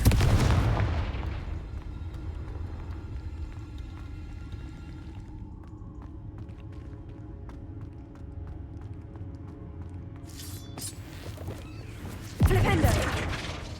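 Confringo blasting spells in Hogwarts Legacy go off as booming explosions, one heavy blast at the start and another near the end, with a low rumble, scattered crackling debris and game music tones between.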